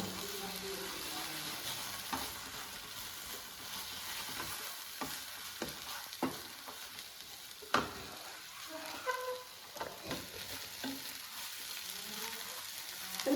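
Egg and tomato fry over a low flame in a pan, with a steady close sizzle and intermittent scraping stirs and taps throughout.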